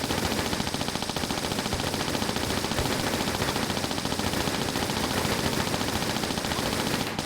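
Uzi fire rattles without pause through a Tomb Raider custom level set in a shipwreck. The automatic bursts are loud and dense, with no breaks and no voice over them.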